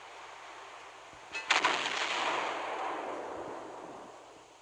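Naval guns fire shells in the warship game Naval Creed, on the battleship Bretagne: a sharp close cluster of booming reports, then a broad rumbling roar that slowly fades, with no talk.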